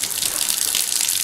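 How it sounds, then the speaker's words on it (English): Water gushes from a tap as makeup tools are washed at a sink, a steady loud splashing stream running throughout with no voices over it. "Sorry again with the dishwasher and the water."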